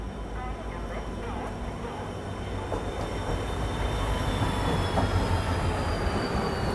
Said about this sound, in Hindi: डीजल लोकोमोटिव के साथ आ रही है तुतारी एक्सप्रेस।